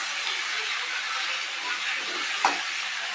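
Onion and garlic frying in a pan, a close, steady hissing sizzle with one brief sharper burst near the end.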